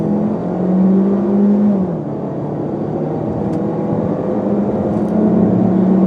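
A 2016 Hyundai Tucson driving, heard as a steady engine hum and road drone with a brief rise and dip in pitch, fairly loud and continuous with no talking.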